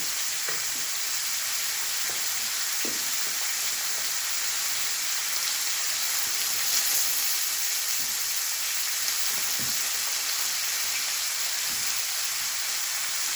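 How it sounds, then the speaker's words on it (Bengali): A steady sizzle of food frying in a pan, a constant crackling hiss with occasional small pops, close by and with no voices. "আমি সকাল সকাল প্রায় এই ভাজাটা করে নিই"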